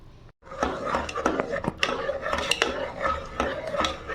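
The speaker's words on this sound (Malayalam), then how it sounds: "നന്നായിട്ട് ഒന്ന് ഇളക്കി കൊടുക്കണം. നല്ല രീതിയിൽ ഇളക്കി കൊടുക്കണം." A utensil scrapes and clinks against a pot or bowl while sugar is stirred into a sweet mixture in a home kitchen, rhythmic knocks and rubbing strokes, close and fairly loud.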